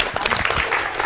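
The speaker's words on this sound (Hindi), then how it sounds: "जोरदार तालियां इस सवाल के लिए।" Short burst of studio audience clapping on a Hindi television debate show, quick scattered claps close and lively for about a second.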